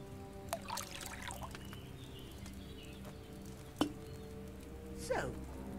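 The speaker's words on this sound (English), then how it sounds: "First, you have to pour the right base into the cauldron." Wine trickles into a cauldron in the video game Kingdom Come: Deliverance II. Several short, soft splashing bursts stand out over a low, faint background hum.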